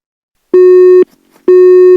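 Two long, steady telephone busy-tone beeps, loud and clean, separated by a short gap with faint noise, heard right after a call is hung up in a Marathi comedy skit.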